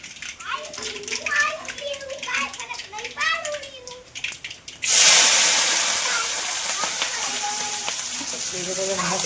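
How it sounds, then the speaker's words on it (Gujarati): Children chatter and talk, then a sudden loud hiss bursts in as a spice tempering hits hot oil for spicy curd. The sizzle carries on steadily under occasional voices. "મસ્ત મજાનું વઘાર થાય છે રહ્યો"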